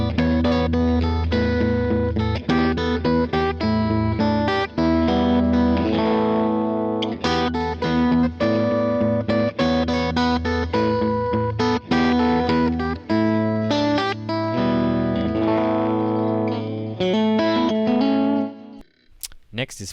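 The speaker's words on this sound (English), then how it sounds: "The mighty computing mind of the Zoom Studio 1204 is split between chorus and echo." Electric guitar run through a Zoom Studio 1204 multi-effects unit set to chorus with mono echo, playing a continuous dense strummed and picked passage, loud and close, with repeats trailing off and a brief pause near the end.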